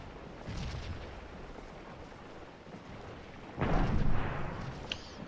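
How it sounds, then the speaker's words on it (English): Artillery fire in the Civil War strategy game Scourge of War at the Battle of Stones River: a continuous low rumbling bombardment, with a louder, closer burst of booms swelling near the end. "Someone getting nailed by artillery fire right there."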